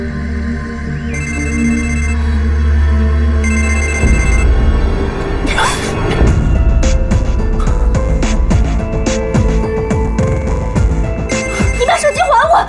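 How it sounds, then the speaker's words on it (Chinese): A mobile phone ringtone plays in two short repeated bursts over low background music, then gives way to a busy indoor scene with clattering movement and people talking. "接电话"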